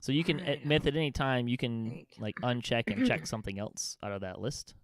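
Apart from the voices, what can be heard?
No everyday noises stand out.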